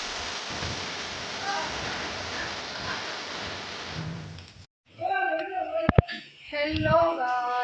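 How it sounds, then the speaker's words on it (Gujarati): Heavy monsoon rain falls in Porbandar, a steady close hiss of downpour that breaks off partway through before louder, more uneven sounds return. "તો હાલો હું તમને બતાવું પોરબંદરમાં કેવો વરસાદ પડે છે ને એ."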